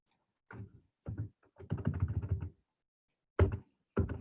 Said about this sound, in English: I'm just going to type it in instead